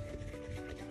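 A hand rubs a little oil around the inside of a bowl before donut dough goes in, making a steady, close, soft rubbing swish that lasts the whole moment with no talk.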